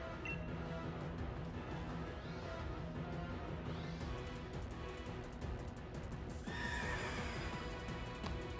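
A horse in the Pokémon Sword video game gives a loud whinny over hoof clip-clops and game music, with a bright rising chime near the end.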